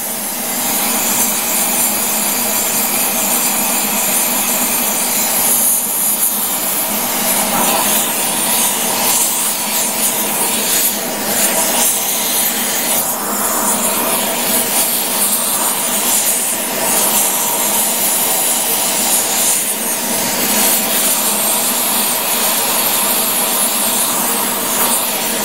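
A rosebud torch heats a Grizzly G0776 lathe tailstock part during repair, a steady, loud, close roaring hiss of the gas flame that holds constant throughout with slight fluctuations and no talk.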